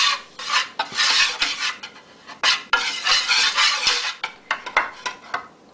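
Flour being stirred into turkey pan gravy in a roasting pan: a whisk or spoon scrapes and rasps against the metal in rapid repeated strokes, loud and close, with no talk.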